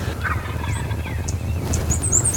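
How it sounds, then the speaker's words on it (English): Wild turkey gobblers calling from the roost during an Oklahoma spring hunt, a rapid rattling gobble close by, followed by sharp higher chirps and calls over a low background rumble. "Within minutes, we had multiple gobblers talking to us on the roost."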